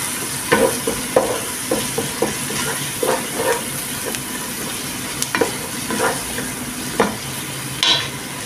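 Tomato paste and onions sautéed in a pan, a steady loud sizzle with repeated scraping strokes of a spatula at an irregular rhythm, up close.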